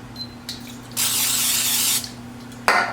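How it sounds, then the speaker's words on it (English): A butter spray can hisses in a steady one-second burst, followed by a shorter spritz, over a low electrical hum nearby. "I'm going to use the butter spray to spray on my hands"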